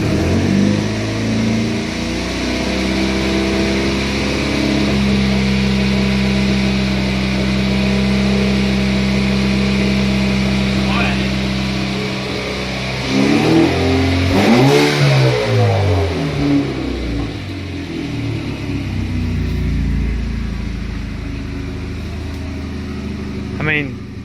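A four-cylinder turbo engine in a Camaro, freshly started on the battery, idles and revs toward 2,000 rpm with a throbbing, uneven drone and a rattling edge, swelling briefly mid-clip while people talk over it.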